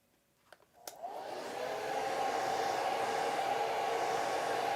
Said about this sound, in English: let me blow dry that real quick